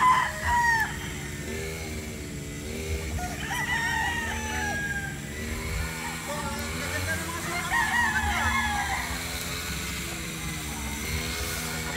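Young gamecock roosters crow repeatedly at a game farm in Montalban, Rizal, several birds overlapping at mid distance over a constant low hum and background clucking.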